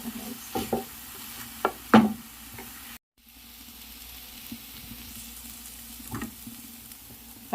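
Spices such as paprika, black pepper, buharat and turmeric are stirred in a frying pan for samosa filling, a few sharp utensil knocks and scrapes over a low sizzle, a brief dropout midway, then quieter frying.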